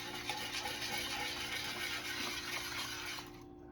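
Boiling country gravy bubbles and simmers in a pot while a spoon stirs it, a soft continuous hiss with faint scraping that stops abruptly at the end, no talk.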